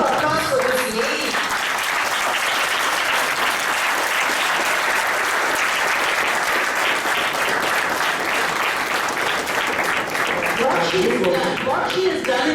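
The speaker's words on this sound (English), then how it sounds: "can we have a round of applause for this lady?" Sustained audience applause for a woman contestant at a stage competition semifinal, loud dense clapping throughout, with voices audible at the start and end.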